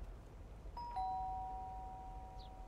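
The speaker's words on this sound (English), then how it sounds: "let's ring the doorbell." A doorbell in the video game Lake gives a clean two-tone chime and then a sustained ringing tone that fades slowly. It sounds alone over a quiet background.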